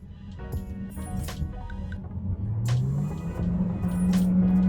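A BYD Tang DM-i plug-in hybrid accelerates along a long straight, its low drone rising steadily in pitch and growing louder as speed builds, with faint cabin clinks and no talk.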